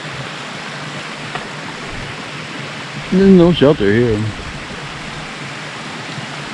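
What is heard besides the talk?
small brook flowing in the forest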